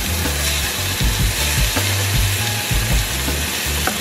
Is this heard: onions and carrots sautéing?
yes